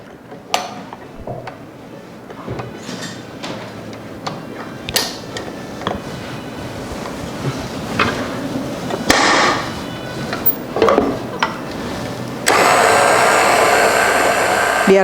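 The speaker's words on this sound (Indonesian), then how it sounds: "Nah, kita kocok menggunakan kecepatan yang tinggi." An electric hand mixer whirs at high speed while beating cake batter with milk powder for a mini roll cake, with clicks and clatter of the beaters against the bowl and a steadier loud whine near the end.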